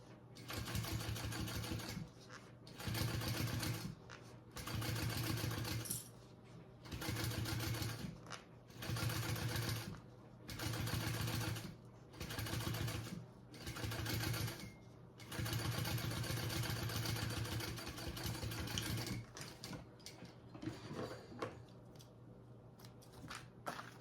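A sewing machine top stitches along a fabric seam in repeated rhythmic bursts, its steady motor hum and rapid needle chatter rising and stopping every second or so, close and clear, with a longer continuous run near the middle.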